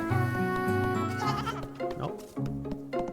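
Goats bleat in the video game Little Goody Two Shoes, several loud wavering calls that overlap and follow one another alongside game music.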